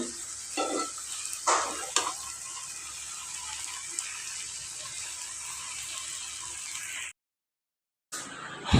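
Noodles and vegetables cook quickly in a pan, making a continuous soft sizzle with a few louder stirring scrapes near the start, close and steady before a short silence and a brief return of sound at the end.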